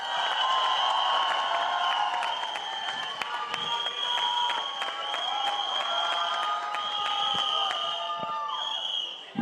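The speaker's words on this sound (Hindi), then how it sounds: "एक बार जोरदार तालियां." Audience applause and crowd noise at the Singham Again film trailer launch event, steady and sustained across the stretch, mixed with music playing underneath.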